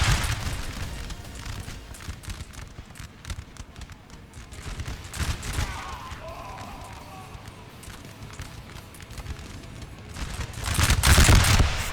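Musket volleys in line battles from the Napoleon Total War game, a rolling crackle of distant gunfire with scattered booms, building into a loud, dense burst of shots at the end.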